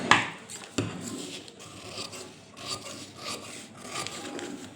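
Scissors cut through paper while a blouse front pattern is trimmed, giving close, soft rasping snips and rustles with a sharper crisp cut near the start, steady and fairly quiet with no talk.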